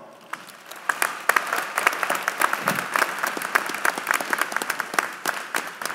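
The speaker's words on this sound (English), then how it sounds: "Please give them a round of applause." Audience at a 2018 commencement ceremony gives a round of applause, a sparse start building quickly into steady, moderately loud clapping from many hands that holds for several seconds.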